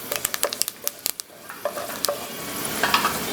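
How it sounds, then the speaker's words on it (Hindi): Curry leaves crackle and sizzle sharply in hot oil with roasted cumin and asafoetida, a burst of close pops and spits at first that settles into a steady, brighter frying hiss. "5-6 करी पत्तों को डालेंगे"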